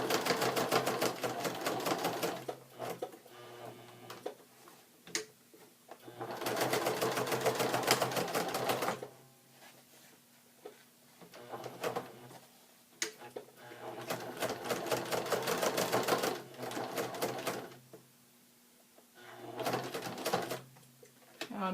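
A sewing machine running in straight stitch over a fabric collage on cheesecloth, with loud bursts of rapid stitching separated by quieter pauses, close by, with a voice talking in the gaps.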